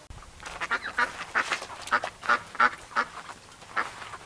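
Ducks inside a duck house quack in a run of loud, close, rhythmic calls that rise and fall, several overlapping honking quacks in quick succession.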